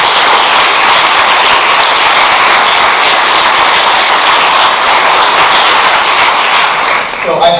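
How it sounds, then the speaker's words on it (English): Sustained applause from a banquet audience at a school sports awards ceremony, honoring the custodial crew; dense, steady clapping fills the room at full volume before tapering off at the very end. "So let's give them a round of applause."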